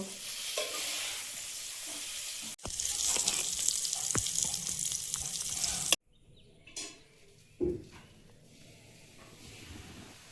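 Pointed gourd fries in hot oil with a bright, steady sizzle that cuts off suddenly, followed by quieter scraping and a couple of clattering pan knocks.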